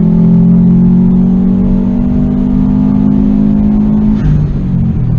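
A 2005 Subaru WRX STI pulls hard in fourth gear, its engine droning loud and steady with rising pitch before easing off near the end; no voices.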